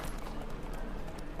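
Horse hooves clip-clop steadily in The Witcher 3, a quick, even gallop rhythm of soft thuds that runs throughout at a fairly quiet level, with no talking over it.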